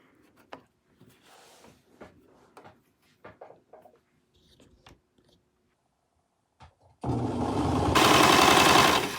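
Quiet handling noises, then a sewing machine's loud, steady mechanical whirring with rapid rhythmic stitching through fabric, running continuously for the last couple of seconds.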